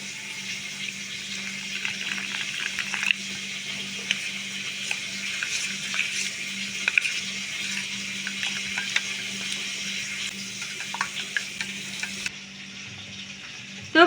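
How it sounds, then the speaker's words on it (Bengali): Water poured into a pan of sizzling spice paste with chilli and cumin powder for a Bengali doi potol curry, a steady close frying hiss and watery splash running throughout with small clinks, then quieting near the end. "এখন আমি জল দিয়ে দেব।"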